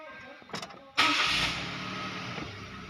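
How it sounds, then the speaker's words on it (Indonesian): A Suzuki Karimun car is started by push-button: a few soft clicks, then a sudden engine catch that settles into a steady close idle hum. "Kita nyalakan mobil."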